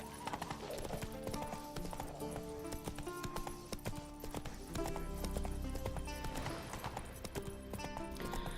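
Geralt's horse Roach gallops in Witcher 3 with a quick, steady clip-clop of hooves, a brief whinny and layered tonal game music underneath.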